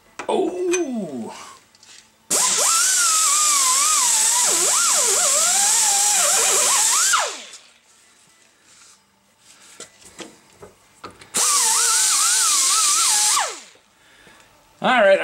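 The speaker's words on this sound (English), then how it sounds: "I ran the drum sander in and out of there a few more times" A drum sander working a king pin bore whines in two loud bursts, the first around five seconds long and the second shorter, its pitch wavering as the tool moves in and out, with quiet handling noises between.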